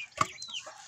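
Hens on a farm give a short, sharp cluck followed by softer, trailing clucking calls, fairly close and heard alone.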